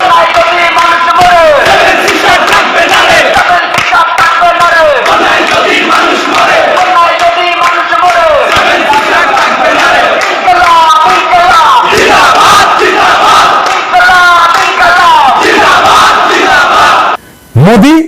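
A large crowd at a Dhaka University protest chants slogans in loud, rhythmic unison, voices massed and close, continuing strongly throughout with only a momentary dip near the end.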